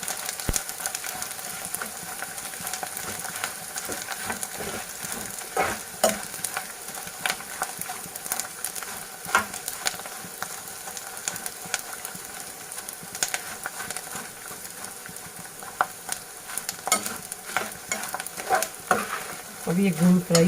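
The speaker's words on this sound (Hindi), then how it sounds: "हम इसमें पहले गोंद फ्राई करेंगे और इसका फ्लेम आपको स्लो पे रखना है और ये गोंद स्लो पे फ्राई करनी है।" Edible gum (gond) fries in hot oil over a slow flame, giving a steady close sizzle with occasional stirring scrapes throughout.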